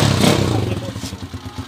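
A motorcycle engine with a new original cylinder block and timing gear runs nearby with a rough, clattering idle that pulses in a quick, steady rhythm.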